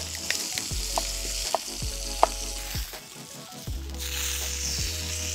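Chicken searing on a cast iron grill pan, a steady close sizzle with occasional louder pops and crackles and a few brief scraping touches, continuing without any voices.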